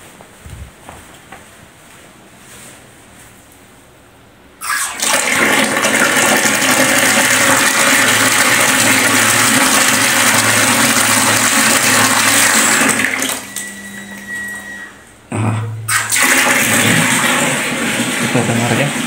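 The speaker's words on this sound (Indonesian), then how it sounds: "ada bunyi air sudah mengalir teman-teman" Water gushes loudly and steadily from a tap fed by a Shimizu water pump, a broad rushing hiss that briefly dips and then surges again.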